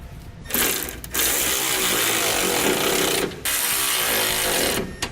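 A ratchet wrench tightens base plate bolts on a 2017 Chevrolet Equinox during a Roadmaster crossbar-style base plate install, with steady continuous clicking broken by two short pauses, close and fairly loud with no talk.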